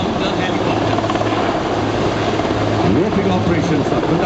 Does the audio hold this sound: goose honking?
no